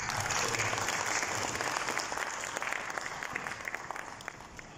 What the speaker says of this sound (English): please join me in giving a big round of applause